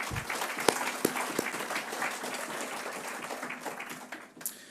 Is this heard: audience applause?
yes